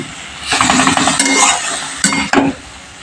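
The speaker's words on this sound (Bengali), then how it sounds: "এবার আমি একটু ভালো করে নেড়ে নিচ্ছি।" A spatula scrapes and stirs salted, turmeric-seasoned sour spinach (tok palong shak) in a pan, close and loud, with soft sizzling and a couple of sharp scrapes near the end.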